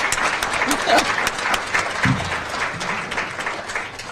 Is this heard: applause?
yes